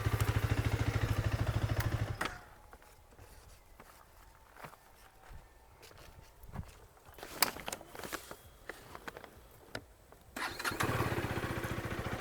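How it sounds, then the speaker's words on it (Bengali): A 2026 KTM Duke 250 single-cylinder motorcycle idles close by with a steady throbbing exhaust, then cuts off, leaving a stretch of quiet with footsteps and clicks before the engine fires up again and settles back into idle. "এটা হচ্ছে আপনার কেটিএমের এক্সস্টের সাউন্ড।"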